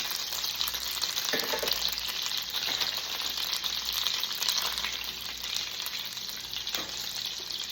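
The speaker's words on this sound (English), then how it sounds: "So we're gonna go ahead and add our cutlets to the pan." Pork cutlets sizzling in hot oil and melted butter in a pan, a steady close frying hiss throughout with a few brief bursts of spatter, no voices.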